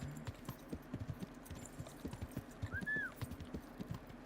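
Horse hooves clip-clop in a steady rhythm as a horse approaches in a video game, quiet but distinct, with a brief whinny partway through.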